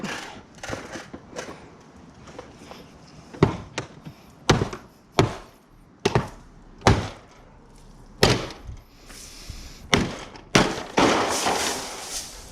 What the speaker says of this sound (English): I think I'm just gonna go ahead and whack this and it's all gonna come tumbling down here